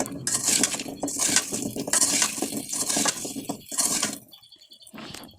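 Olives for pickle stirred continuously in a pan, loud close scraping and clinking of a spoon against metal in repeated strokes, fading to quieter knocks at the end.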